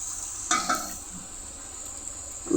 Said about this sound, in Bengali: এই যে আমি এখন ভাজছি